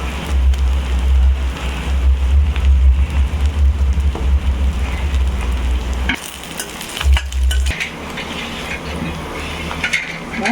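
Curry leaves and coriander leaves frying in a pan, giving a loud, close, crackling sizzle that drops back partway through and resumes more softly, with no speech.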